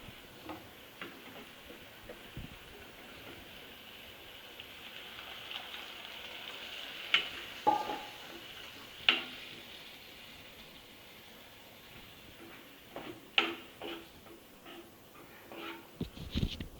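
Potato kuzhambu curry simmering in a pan gives a faint, soft bubbling with scattered small pops and ticks, quiet and close, a few sharper bursts near the middle and end.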